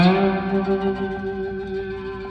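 A sustained, ringing slide note on the second string of a three-string cigar box guitar, with a bright buzzy tone and echoing tail, gently wavering as it fades.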